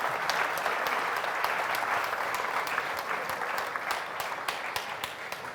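Sustained applause from a church meeting congregation, a dense steady wash of many hands clapping that continues evenly for several seconds without speech.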